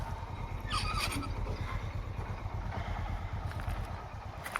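A motorcycle engine putters steadily nearby, a low rhythmic thrum with some faint rattling on top.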